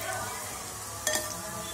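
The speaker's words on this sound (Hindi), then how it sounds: "तो हमारी प्याज जो है वो फ्राई हो चुकी है" Onions fried golden brown in a pan for a matki dal sabzi, a soft steady sizzle with one brief metallic clink of a utensil, faint and close.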